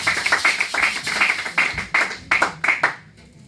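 Congregation at a prophetic preaching service claps in acclaim of the Lord, a fast rhythmic run of sharp hand claps, loud and close, with a few voices mixed in, stopping near the end.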